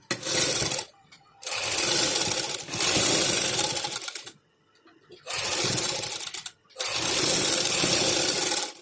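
An electric sewing machine stitches a cotton frock kurti in long, loud, steady whirring runs, four bursts separated by brief silent pauses, heard up close.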